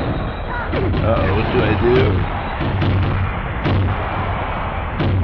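Explosions and crashes of breaking glass in MDickie's Booking Revolution wrestling video game, loud broadband blasts recurring every second or so under a steady low rumble, with someone talking over them.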